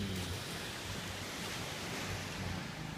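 A calm sea at Bang Buean beach gives a steady, broad wash of surf and wind noise, constant and fairly faint, with no voices over it.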